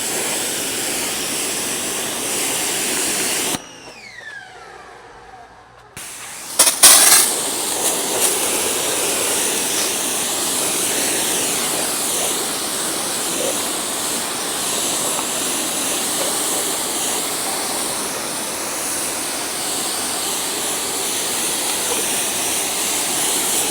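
A hose rinses dirty floor mats from a Honda Odyssey with a steady, loud rushing hiss of spraying water that briefly cuts out and then resumes.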